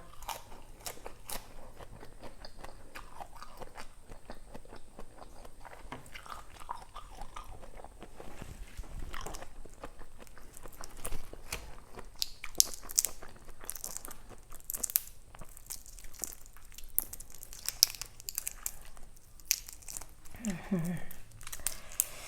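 Raw river prawn sashimi, fresh from a pond and eaten with spicy seafood dipping sauce, gives close, steady crunching and wet chewing bites that repeat throughout, with crisp crackly snaps.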